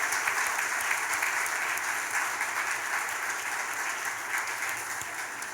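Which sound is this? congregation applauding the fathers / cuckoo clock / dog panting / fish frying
congregation applauding the fathers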